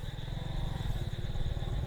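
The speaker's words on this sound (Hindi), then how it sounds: "समीर बाइक पे अपनी धुन में जा रहा था कि अचानक उसे एक चीख सुनाई दी." Low, steady engine putter of a motorcycle riding along, a constant rhythmic rumble at moderate level with a faint high whine.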